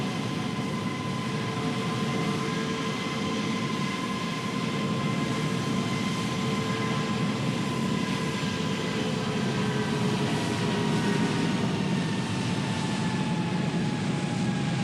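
Simulated Boeing 767 jet engines at JFK in Microsoft Flight Simulator 2020, a steady, loud turbine roar with a sustained whine, continuous and unbroken throughout with no talking.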